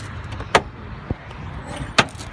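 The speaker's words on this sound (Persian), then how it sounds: "یه شاسی رو میبینیم که وقتی بکشی اینو یه فضایی حالا" A few clicks and thumps come from a storage compartment being pulled out in the cab of a 2017 Renault Premium truck, set against a low interior rumble.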